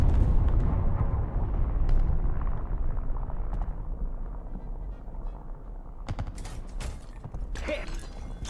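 Shell hit explosion in the tank video game War Thunder, a heavy rumbling blast with a dense low-end roar that gradually fades, followed by sharp mechanical clanks and crackles.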